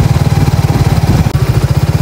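A motorcycle engine running in a rural riverside setting in Calauan, Laguna, with a steady, rapid, throbbing low pulse that stays close and loud, with a brief dip partway through.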